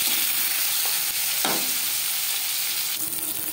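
Pieces of katla fish belly sizzle steadily in hot oil while being turned over in the pan, with a few soft scraping knocks from the flip over the constant close frying hiss.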